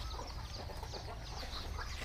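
Chickens cluck and murmur faintly at a rural home, soft scattered calls over a low steady background rumble, no one speaking.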